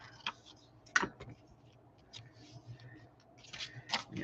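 Scissors snip small paper pieces in half for journal ephemera: a handful of quiet, crisp cuts spaced irregularly, with faint rustling between them.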